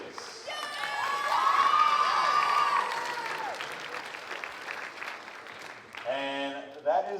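Sustained applause and cheering from a high school spring concert audience honoring students, a dense crowd wash with children's shouts and sung or whooped tones rising over it, continuing loudly throughout.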